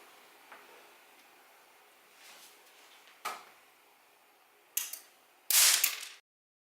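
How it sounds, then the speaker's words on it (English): An LED blown apart by a 400V, 2000uF capacitor discharged through a MOSFET: a quiet lead-in with small clicks, then a sharp crack, a double snap and one final loud burst before abrupt silence. "When I press this button, it's going to turn on the MOSFET and it's going to blow that LED up."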